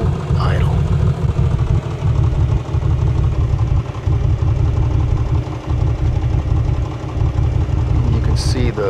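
In the flight simulator game Microsoft Flight Simulator, a Piper Comanche 250's piston engine runs at a low idle with an uneven, rough, loping rhythm as weak cylinders skip. The loud, steady drone continues throughout.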